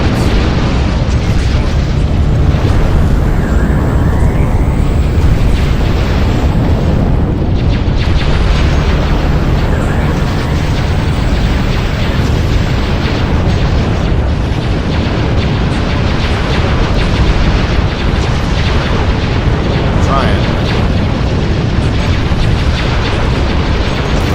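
Dense, continuous booming blasts and explosive bursts from capital ships under fire in the Star Wars Ascendancy video game, a loud unbroken barrage with faint voice underneath.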